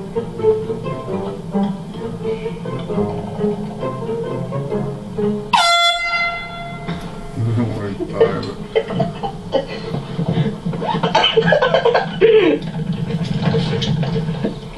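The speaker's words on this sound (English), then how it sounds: "Why not go prank him on the golf course with an air horn?" A loud air horn blast goes off as a prank on a golf course, one sudden, piercing tonal burst cutting through outdoor ambience, followed by people talking and laughing nearby.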